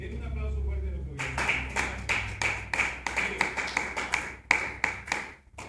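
A church congregation breaks into clapping after a voice finishes speaking, with sharp, fairly regular hand claps building into a rhythmic beat that sounds close and slightly reverberant.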